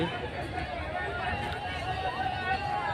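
Busy crowd bustle at Chakan market, a steady dense hubbub of overlapping voices and movement that stays close and loud throughout, with nothing standing out from the mass of chatter.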